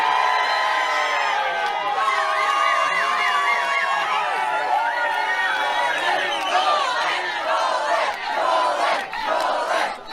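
A happy crowd of fans cheering for Novak Djokovic after his release by the Federal Circuit and Family Court, with continuous shouting and chanting voices, loud and close, blended with crowd babble.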